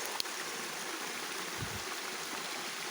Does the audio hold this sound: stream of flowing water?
yes